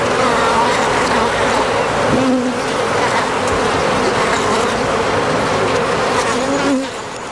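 A bee buzzes angrily right beside the ear, a close, steady, droning hum that wavers slightly in pitch and holds for about seven seconds before easing off at the end.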